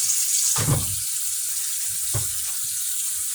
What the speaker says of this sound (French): Je vais rincer ça